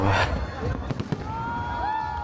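New Year 2025 fireworks show at Mall of Asia in the Philippines, with loud bursts, crackling and whistling rockets over a cheering crowd, with voices in the background.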